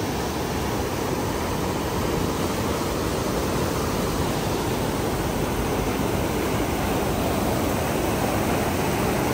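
Water rushes out through opened gates in a loud, unbroken roar that holds steady and close throughout, with no pauses.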